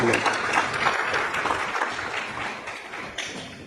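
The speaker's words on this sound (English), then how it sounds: "so we will clap for all the contestants" An audience claps for the contestants at an APC party primary results announcement, a steady dense applause filling the space while a voice talks over it.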